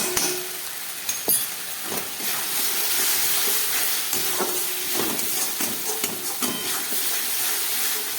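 Ginger, garlic and onion frying with coriander and cumin powder for a jackfruit curry, a steady loud sizzle and hiss broken by intermittent stirring scrapes and clacks in the pan.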